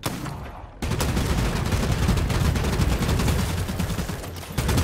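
Loud shotgun blasts in the game Bloodhunt, fired in a dense, rapid barrage of booming, overlapping reports after a brief quieter moment.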